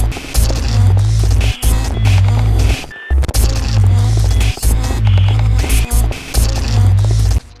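Loud, throbbing chase music from the video game Haunting Ground plays with a distorted, glitchy electronic beat and brief dropouts between pounding sections.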